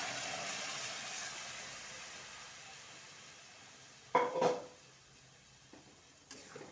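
Boiled chickpeas drop into a pan of well-fried spiced masala, giving a short burst of wet tumbling and clatter partway through, set against a steady low sizzle and a faint later scrape.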